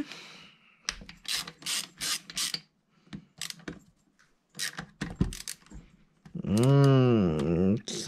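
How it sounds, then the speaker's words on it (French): A small ratchet wrench clicks in short bursts while someone works on the Minarelli vertical engine of an MBK Rocket scooter. The clicks are close and separated by pauses, and a voice follows at the end. "Mon petit cliquet"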